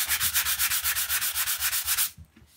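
A motorcycle front mudguard is wet sanded by hand with Coca-Cola as the liquid, giving about sixteen even rhythmic back-and-forth rasps up close, then stopping.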